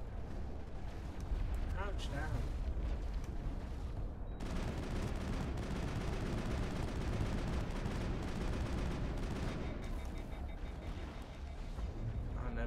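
Weapons firing in the video game Mass Effect: loud, sustained bursts of rapid shots with a steady, crackling density and almost no pause.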